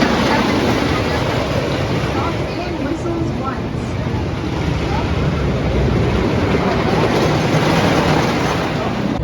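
A ride on the Invader roller coaster at Busch Gardens Williamsburg: a steady, loud rumble of wheels on track mixed with rushing wind buffeting the microphone throughout.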